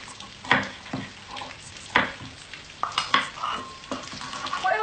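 A spoon stirring garam masala into a beef curry with yogurt, garlic and ginger in a pan, giving irregular scrapes and knocks against the metal over a low sizzle, close by.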